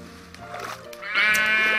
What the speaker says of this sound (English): I'm gonna get these sheep, this last sheep in.